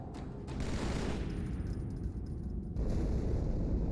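A huge explosion of the ship Athens in Halo 2: a dense, continuous roar of blasts and crackling booms with no break, growing heavier and deeper toward the end.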